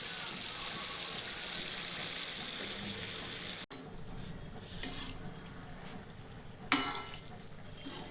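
Small gulgule fritters of jaggery and wheat flour fry in oil over a low flame, giving a steady close crackle and hiss, with a couple of sharper splutters and clinks partway through.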